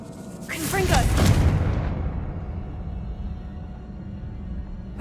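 A Confringo blasting spell in the Hogwarts Legacy video game goes off as a loud booming explosion with a bright crackling burst, then a low rumble trails away; a voice is heard over the start.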